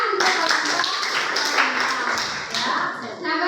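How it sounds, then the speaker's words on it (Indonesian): Classroom group applauding after a student presentation on uneven coconut growth, a dense burst of many hands clapping close by for several seconds, with voices mixed in underneath. "Iya, tepuk tangan."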